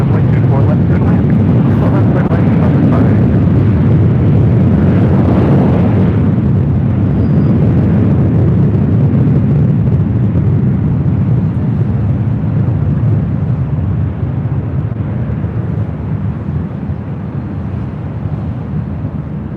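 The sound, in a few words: Delta Connection airplane taking off at LAX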